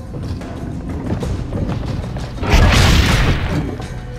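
A cannon fires in Assassin's Creed Brotherhood, a heavy low boom and crash that swells after a stretch of steady rumbling game noise and then tails off.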